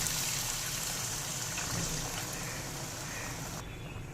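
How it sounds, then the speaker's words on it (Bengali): Water poured into a pan for a Bengali fish curry broth with gathi kochu and katla fish, a steady trickling and splashing stream that runs evenly for a few seconds before easing off. "এবার ঝোলের জন্য জল দিয়ে দেবো।"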